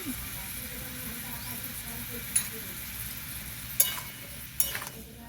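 Pumpkin fries in a pan for sukto with a continuous close sizzle, broken by a few sharp clinks and scrapes of stirring.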